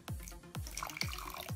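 Water is added a little at a time to a mixture of Elmer's glue, making three distinct, evenly spaced drips or splashes, each with a falling tone, close and quiet with no talk.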